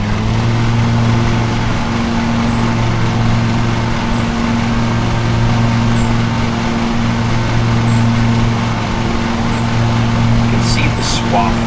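Steady drone of a lawn mower engine cutting grass in a mowing simulator game, a constant hum holding throughout with no pauses, over a continuous bed of sound.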